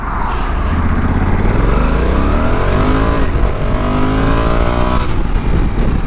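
A 2022 Honda Africa Twin DCT adventure motorcycle accelerates hard onto a motorway, its engine loud and close, pitch climbing through automatic gear changes under rushing wind, with no talk.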